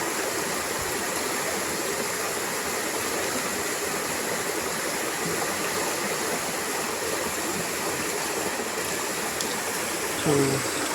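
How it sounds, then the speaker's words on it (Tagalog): Strong water pours steadily into a fish pond, a broad continuous rushing and splashing like a small waterfall, fairly faint and unbroken, with a brief voice near the end. "Lakas ng tubig, oh."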